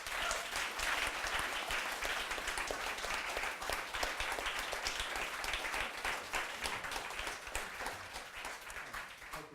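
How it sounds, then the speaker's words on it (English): A seated audience at a panel discussion claps for the panel in a dense, even round of applause that holds steady and fades only slightly near the end. "Can we give them a round of applause?"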